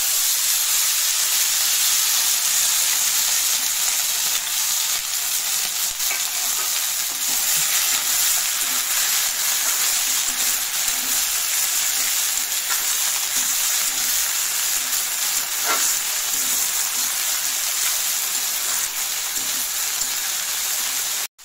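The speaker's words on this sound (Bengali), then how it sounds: "প্রথমে খালি জিরা দিয়ে দিলাম, দিয়ে গরম তেলের মধ্যে দিয়ে দিচ্ছি।" Cumin seeds sizzling in hot oil at the start of a potato and banana-peel curry, a loud, dense, continuous crackling hiss up close with no voices.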